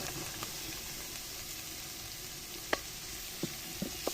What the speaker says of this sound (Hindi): मसालों को अच्छी तरह से भूनेंगे